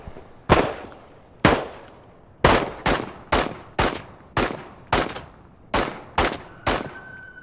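Repeated gunfire from a firearm in the VR shooter Into the Radius: about ten sharp, loud shots, first two spaced apart, then a quick irregular string of reports, each with a short decaying tail.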